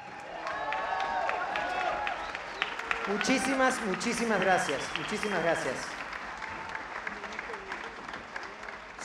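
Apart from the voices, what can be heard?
audience applause at orchestra concert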